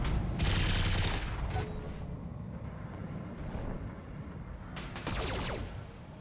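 Mech machine guns rattle in Battletech, a rapid burst at the start, a short spurt after it, then quieter rumbling and a second sustained burst near the end.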